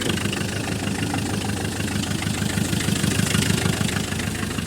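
A Ch 4 8.5 diesel engine idles just after starting, chugging in an even, close, loud rhythm with a steady low throb and no talking.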